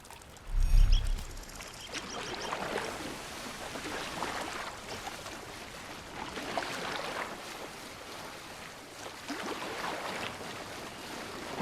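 A boat glides along a canal in the game Assassin's Creed Mirage, a steady wash of water and rippling surf around the hull, opening with a brief low thump, moderately quiet and without speech.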